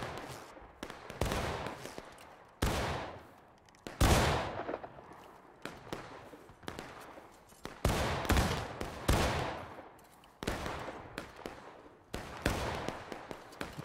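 Gunshots fire one at a time at a steady pace, each a second or two after the last. The cracks are loud and close, with short decaying tails and a few nearly overlapping shots.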